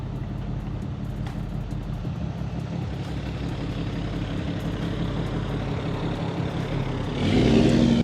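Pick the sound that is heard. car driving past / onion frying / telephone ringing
car driving past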